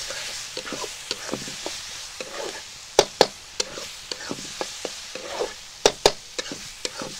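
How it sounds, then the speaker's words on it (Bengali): Spices being fried and stirred in a pan with turmeric, sugar and salt, with a low sizzle under repeated sharp scrapes and clacks from a spoon against the pan at an uneven rhythm. "দিয়ে ভালো করে একটু কষিয়ে নিচ্ছি।"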